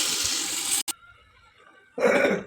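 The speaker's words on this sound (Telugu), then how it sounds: "ఇందులో మనం నీళ్ళు పోసుకోవాలి. 1 గ్లాస్ బిర్యానీకి 2 గ్లాసులు నీళ్ళు పోసుకోవాలి." Water pours steadily into a pot of rice for chicken biryani, stops briefly, then resumes with another close, splashing stream.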